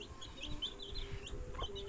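Chickens clucking softly nearby while chicks feed, short clucks and faint peeps over a low background, quiet and close.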